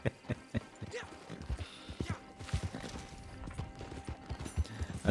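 Steady, rhythmic hoofbeats of a horse trotting in Red Dead Redemption 2, sharp and close, with a faint whinny in the background.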